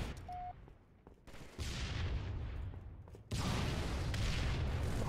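Grenade blasts and gunfire from Halo multiplayer, a loud, dense barrage with sharp bursts and booming impacts that build into a sustained roar near the end.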